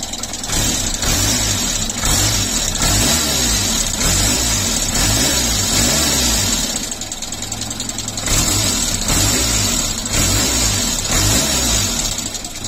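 Renault Super 5 engine after an ignition harness and oil pressure switch replacement, running loud and close with a rough, pulsing idle and a few slight revs throughout, no talk.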